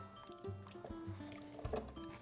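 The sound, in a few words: stirring flour into water, breaking up clumps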